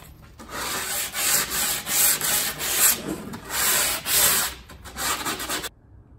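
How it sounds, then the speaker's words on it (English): A plywood edge is hand-sanded with 120-grit sandpaper to knock off burrs, giving a steady series of close, rhythmic scratchy rubbing strokes that swell and fade for several seconds before stopping. "we're using just a little bit of 120 sandpaper to kind of get off the little burrs on the edge of this."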